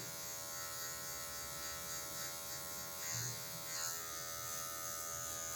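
Electric hair clippers buzz steadily and close while the tip of the blade cuts a mid fade, a constant high whine with slight swells as the clipper meets the hair and no speech.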